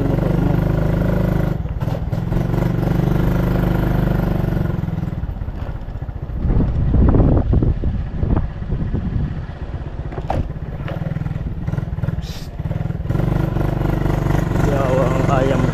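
A motorcycle engine idles steadily and close by, with a brief rise in revs midway and some clatter, while people talk over it.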